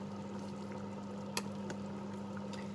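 A pot of pork bone soup simmers quietly, giving a soft, continuous bubbling hiss with a low hum and one brief click.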